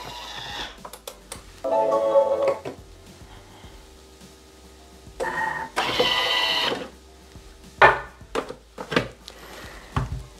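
Bimby Thermomix food processor mixing pistachio crumble, with separate whirring bursts of a second or so starting and stopping, each one loud and close, and no talk.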